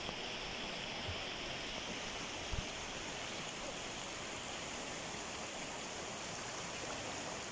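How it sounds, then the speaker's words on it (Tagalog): Steady rushing of the river at Barangay Daraitan, Tanay, Rizal, a broad continuous roar of current flowing over rocks with no pauses, heard alone. "Grabe po yung mga agos ng tubig po dito mga boss."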